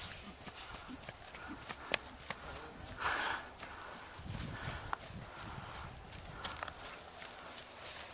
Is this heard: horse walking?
yes